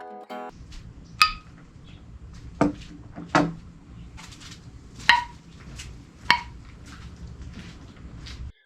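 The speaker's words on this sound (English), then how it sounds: "That's the sound of a vacuum being created inside your jars, and it is an audible indication that your seals have sealed." Home-canned green bean jars with turkey stock cool on a towel-covered surface, their metal lids giving several sharp, distinct pings and pops at irregular intervals as vacuum seals form, over quiet background.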